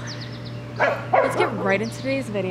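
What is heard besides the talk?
dog barking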